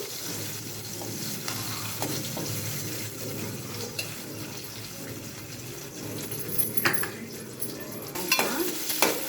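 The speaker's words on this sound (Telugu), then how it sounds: "ఆవాలు జీలకర్ర వేగాక ఆనియన్స్ వేసిందండి" Onions frying in oil with mustard seeds and cumin for a bottle gourd and peanut curry, giving a soft, continuous sizzle with occasional stirring clinks and some running-water sounds nearby.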